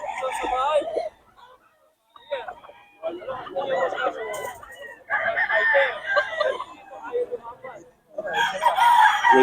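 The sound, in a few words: bull stag gamecock crowing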